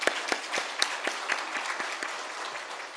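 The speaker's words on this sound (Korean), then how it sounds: "하나님 앞에 크게 영광의 박수를 돌리겠습니다" A church congregation applauds during a Sunday worship service, steady dense clapping from a room full of people that fills the whole stretch without voices.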